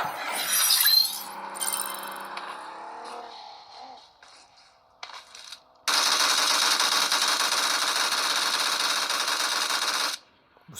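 Sustained automatic gunfire in the PUBG Mobile video game, played on a Samsung Galaxy S20 Plus, comes as a loud continuous burst lasting several seconds after earlier scattered shots and clinking, glass-like impacts.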